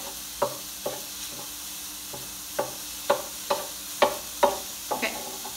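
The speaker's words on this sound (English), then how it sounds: "Let me give this a stir. Making sure that that ground beef is chopped up really finely." Ground beef frying in a pan for Italian ziti as it is stirred and broken up finely, with a steady low sizzle and a series of spoon scrapes and taps at irregular intervals, heard close.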